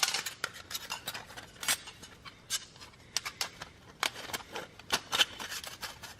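A small metal alcohol stove is taken apart, giving sharp, close metallic clicks and clinks at irregular intervals with quiet pauses between them.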